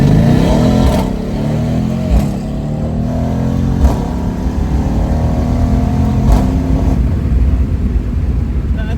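Mercedes C63 S Cabriolet engine revving hard and steady, a loud, deep exhaust roar that rises and holds, punctuated by several sharp pops and crackles from the exhaust at close range.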